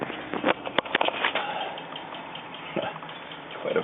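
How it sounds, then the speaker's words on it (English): Air conditioning condensation from a Sprinter van drips and patters irregularly onto a surface nearby, a cluster of quick drops early on, then sparser splashes. "we got some air conditioning condensation dripping"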